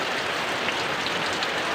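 Heavy rain pours steadily on an island, a dense continuous hiss of downpour with no voices and no breaks.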